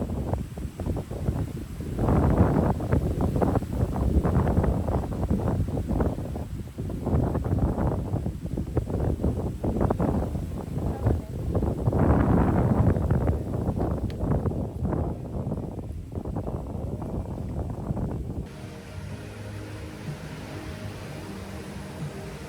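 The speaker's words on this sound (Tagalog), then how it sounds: "ang lakas ng hangin eh." Strong wind buffets the microphone at a hillside car campsite, a loud, continuous roar with gusting surges that eases toward the end.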